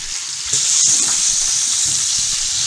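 Peppers sautéing lightly in oil in a pan, a close, steady bright sizzle with a sharp tick near the start and faint stirring underneath.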